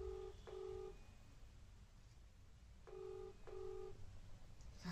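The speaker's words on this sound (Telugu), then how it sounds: "రింగ్ ఇప్పుడు రింగ్ అవుతుంది." An outgoing phone call rings back in two pairs of short electronic tones, one pair near the start and another a few seconds later, quiet and clear against faint room hiss.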